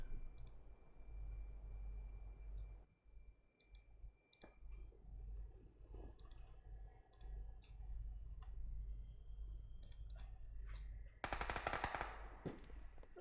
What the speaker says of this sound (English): As more gunshots ring out, looks like things are gonna close in.